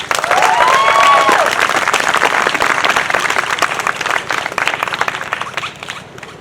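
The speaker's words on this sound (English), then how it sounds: "Can we get another round of applause for Anthony?" An outdoor crowd at a budget town hall in a park bursts into applause and cheering, a whistle rising at the start, clapping strong then gradually thinning over several seconds.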